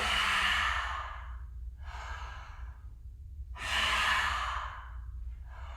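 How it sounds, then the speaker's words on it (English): Forceful exhalations with the tongue out during a yoga detox breathing exercise, two strong breathy pushes separated by softer breaths, close and alone. "I'm exhaling as I come up with my tongue out"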